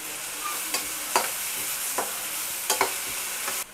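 Onions frying to golden in a pan, a steady close sizzle broken by repeated sharp scrapes and taps of a spoon stirring, ending abruptly.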